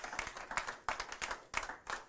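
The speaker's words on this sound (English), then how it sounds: "Let's give him a big round of applause" An audience applauds a guest speaker at a lecture event, a short burst of clapping with uneven bursts of hands, moderately close and without voices over it.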